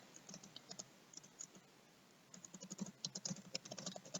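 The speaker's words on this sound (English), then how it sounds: "as I'm typing" Quiet keyboard typing in bursts of rapid clicks, a brief pause in the middle, then faster keystrokes, close by with no voices.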